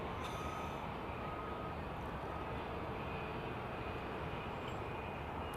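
An Embraer Phenom 300 jet departing runway 27R gives a steady, loud, broadband roar that holds throughout without a break.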